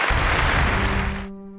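Studio audience applause on a Chinese reunion TV show as the next guest is welcomed, a dense burst of clapping that fades out after about a second, leaving a low steady hum.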